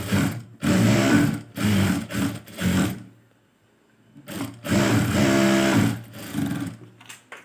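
Sewing machine stitching a blouse lining runs in loud bursts with a mechanical rattle, stopping briefly at about three seconds before running again steadily.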